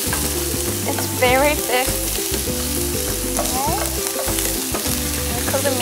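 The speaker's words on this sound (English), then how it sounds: "now we put the chicken and the prawn" Chicken and big prawns stir-frying in a wok for noodles, a steady loud sizzle with scraping and clattering under music, and a brief spoken remark partway through.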